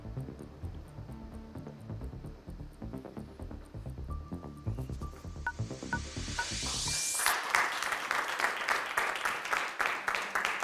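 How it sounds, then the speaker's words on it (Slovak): Studio audience applauding Mrs. Katka on a word-hunting game show, a dense patter of clapping that swells and turns brighter and fuller about two-thirds of the way through, continuing to the end. "Potlesk patrí vám, pani Katka"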